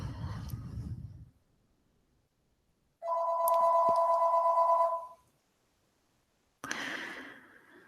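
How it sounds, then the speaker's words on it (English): A home telephone rings in a single steady electronic burst of about two seconds, clear and alone between quiet gaps, with brief talk before and after. "And my home phone is ringing."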